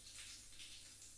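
Hot water runs from a tap in a steady, faint, airy hiss that flows without a break through the short moment.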